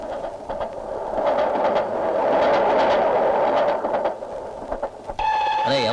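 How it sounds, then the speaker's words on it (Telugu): Train pulling into a station in a film scene, a steady loud rumble and rail noise building and holding, with a bright horn-like tonal blast near the end. "అయ్యో రైలు వచ్చేస్తుంది"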